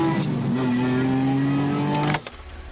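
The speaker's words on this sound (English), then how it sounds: "we've specifically engineered the noise we want for the bespoke exhaust system." A Ferrari 250 GT SWB restomod by RML with a bespoke exhaust system runs at a steady, sustained drone with a smooth tonal hum, then cuts off abruptly near the end.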